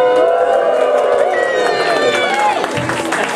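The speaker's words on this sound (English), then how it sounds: "Yet again, another awe-inspiring cheer from you all." A convention audience at a closing ceremony cheers and whoops loudly as a crowd, a dense sustained roar of many voices close by that eases slightly near the end.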